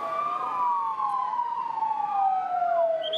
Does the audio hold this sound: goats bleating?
no